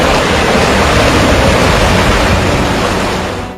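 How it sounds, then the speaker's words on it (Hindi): Floodwater surging beneath city flyovers in flood-hit China, pouring from about ten feet high as a loud, dense, unbroken roar that holds steady and fades slightly at the very end. "कई फ्लाईओवर के नीचे 10 फीट ऊंचाई से पानी बह रहा है।"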